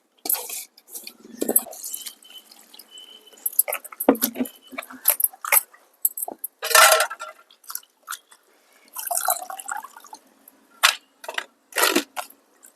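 Amaranth leaves are washed in water in a perforated colander bowl, with splashing, dripping and wet squishing in irregular bursts, close by and without a voice.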